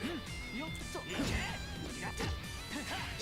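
DP uppercut landing in the fighting game Under Night In-Birth, a sharp smash among quick whacks and whooshes beneath busy match sound, with no talk.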